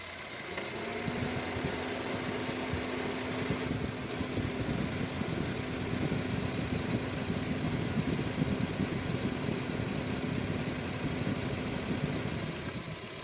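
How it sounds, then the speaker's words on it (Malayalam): A car engine idles steadily with the air-conditioning compressor running, a continuous low hum and rumble with a constant tonal drone, close and even throughout, with no talk. "കംപ്രസർ ആട്ടോ കട്ട് ഓഫ് ആവുന്നുണ്ടോ എന്ന് ശ്രദ്ധിക്കാം."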